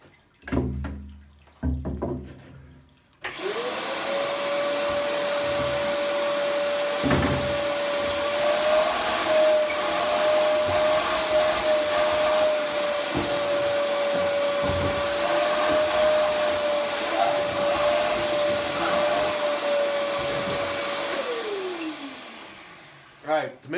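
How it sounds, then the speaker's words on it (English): A vacuum cleaner runs on a screen printing screen during screen reclaiming, switching on with a sharp onset, holding a loud steady whine for about eighteen seconds, then winding down, with brief talk and handling noises before it starts. "to make sure this vacuum does the job the way it's supposed to"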